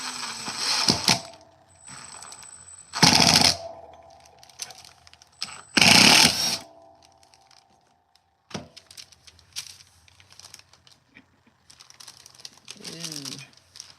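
A power tool drives screws into a wooden spindle in three loud, sharp bursts, each followed by quieter clicks and handling sounds.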